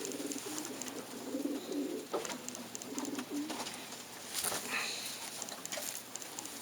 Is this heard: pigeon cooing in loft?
yes